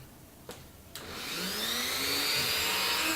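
A small Dremel rotary tool with a soft grinding wheel grinds down a screw, starting with two brief taps and then rising into a steady, high whining grind that holds to the end.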